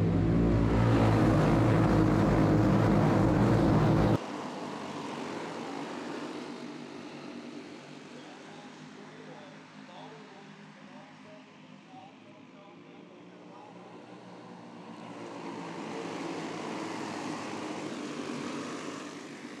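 Race cars run at Paradise Raceway: a loud, close roar of engines cuts off abruptly, leaving a distant, swelling pack drone that circles and builds again, with an announcer talking over it.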